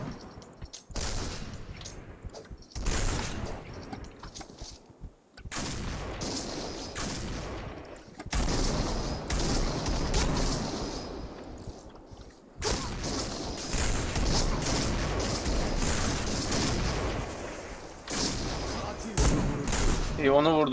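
Repeated gunfire from a Barrett M82A1 sniper rifle and other weapons in the video game Point Blank, with sharp shots in bursts and volleys, loud and close, separated by brief quiet gaps and mixed with game effects.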